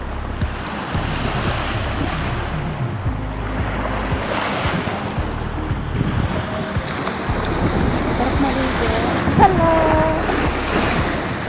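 Sea waves at the seaside of Salmiya, a steady, close rush of surf mixed with strong wind buffeting the microphone, continuous and fairly loud with no clear breaks.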